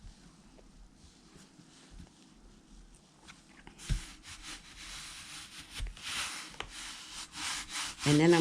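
Aluminum foil is rubbed by hand onto a canvas, giving soft scuffing strokes that start quiet and grow into louder, broad swishing rubs in the second half.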